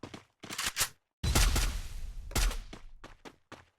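Rapid bursts of gunfire from the Free Fire battle royale game come in short clustered volleys separated by brief gaps, fairly loud and without talk.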